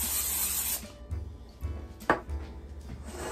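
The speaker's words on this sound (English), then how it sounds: "let's spray the bowl with cooking spray instead" A short hiss of cooking spray sprayed into a bowl opens the clip, followed by quiet kitchen handling sounds and a soft knock.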